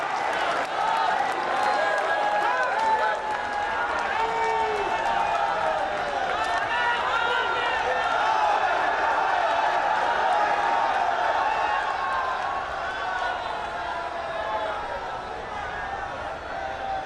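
Loud, sustained crowd noise from a large audience at a public event in Kashi, dense and steady for the whole stretch, with applause and voices blended into a continuous roar.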